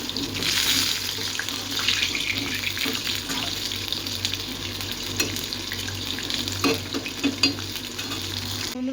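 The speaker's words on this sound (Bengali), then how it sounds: "চিকেনগুলোকে ভেজে নিই" Chicken pieces sizzle and spit in a hot frying pan in a home kitchen, a continuous crackling hiss with scattered pops and utensil clinks, and running water mixed in.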